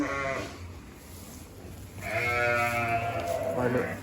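Ewes bleating loudly and close by in a lambing pen, two long wavering calls separated by a quieter gap.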